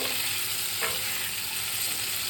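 Potatoes tossed with salt and turmeric fry in oil, a constant close sizzle with one brief stirring scrape partway through.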